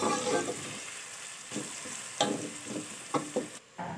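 Ginger garlic paste frying in a pan for a spicy macaroni dish, giving a soft steady sizzle with intermittent stirring scrapes and clicks, close and alone without speech.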